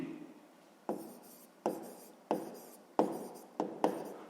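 A pen writes on paper during a sixth-grade maths lesson, with six distinct scratchy strokes in an irregular rhythm, close and fairly quiet, no talking.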